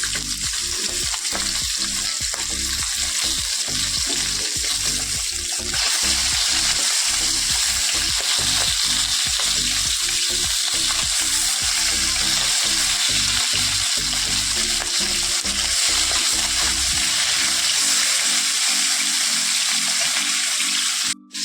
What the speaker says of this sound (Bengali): নামিয়ে দিয়ে এখানে আমি মাছ ভাজা বসিয়ে দিয়েছি অলরেডি।